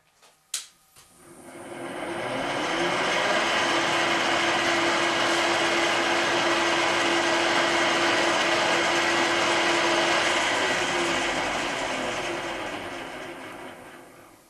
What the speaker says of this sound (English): now it's just to drill 8 more holes